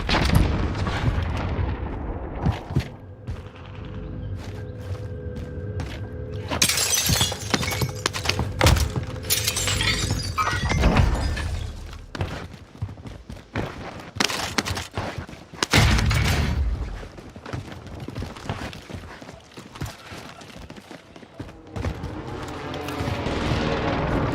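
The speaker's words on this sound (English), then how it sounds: "Airstrike inbound." Airstrike explosions go off in a battle royale video game, with a series of heavy booms and shattering blasts that come in bursts and clusters over a rumbling background.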